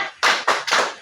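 Group of people clapping together in unison, three sharp, close claps in quick succession with short gaps between them.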